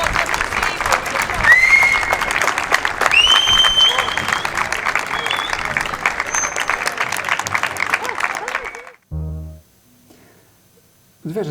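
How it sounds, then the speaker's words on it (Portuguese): An audience breaks into big, sustained applause with a few whistles and cheers mixed in, holding steady for several seconds before cutting off abruptly into near silence. "uma grande salva de palmas"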